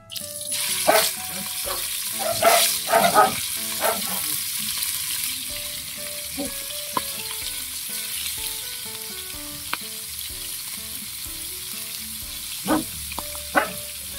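Small tawilis fish fry in oil in a pan with a steady, moderate sizzle, broken by occasional clinks and scrapes of a utensil and a few brief louder pops.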